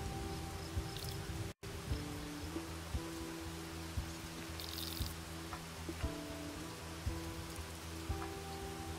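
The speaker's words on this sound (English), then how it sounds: "The rain is absolutely a lucky break." Rain in the video game Overland falls as a steady soft patter on surfaces with scattered drops, continuous and fairly quiet, with no talking, over a faint background music tone.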